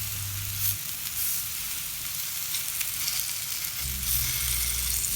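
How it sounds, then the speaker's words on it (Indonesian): Banana pieces fry in margarine on a nonstick pan, giving a soft, even sizzle that runs continuously, fairly quiet and close, with no voices. "di atas teflon dengan menggunakan margarin"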